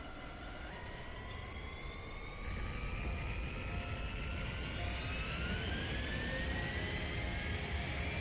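An aircraft takes off in the video game Digimon Story: Time Stranger, a loud, steady jet-engine roar with rising whine tones that climb in pitch and swell in strength partway through.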